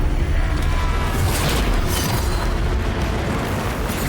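A heavy, sustained explosion rumbles and crackles during a boss fight in The First Berserker: Khazan, loud and dense for several seconds with a deep low-end roar and no pause.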